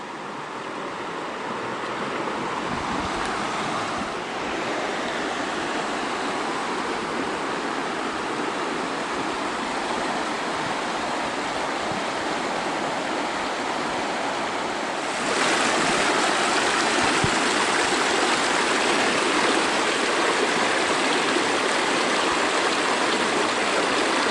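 The Nantahala River flows steadily on the Appalachian Trail, a continuous broadband rush of moving water that holds nearly constant throughout and swells slightly louder partway through, with no voices.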